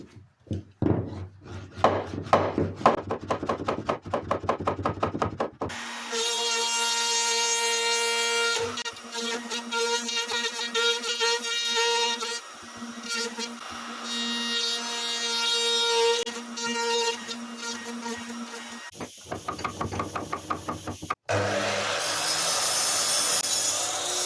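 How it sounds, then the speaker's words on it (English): A router machines timber for a sharpie's rudder, starting with rapid rattling bursts, then a sustained high-pitched whine as the bit cuts along the wood, with brief pauses and restarts. "so the router comes up against it like that on both sides"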